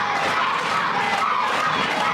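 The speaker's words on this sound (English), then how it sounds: "And listen to this Weymouth crowd getting behind Blazr." A wrestling crowd at the Weymouth Pavilion cheers and chants for a wrestler, a dense, loud, continuous roar filling the hall.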